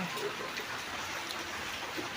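Winter rain falls steadily in a rural Gujarati setting, a dense, even hiss of drops on surfaces with no pauses or voices.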